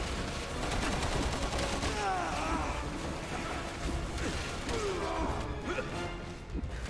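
Gunfire from the video game Resident Evil 6, a dense, continuous stretch of rapid shots and crashing impacts layered over busy game sound effects, steady and loud throughout.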